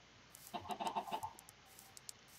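Chickens clucking in the Minecraft video game: a quick burst of several short, close clucks in the first half, followed by a few faint isolated clicks, with no talking.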